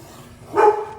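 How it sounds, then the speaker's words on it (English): A dog gives a single short bark in the background of a home kitchen while roux cooks over medium heat, one brief moderately loud yelp after a quiet stretch. "Dogs barking in the background, that's always fun."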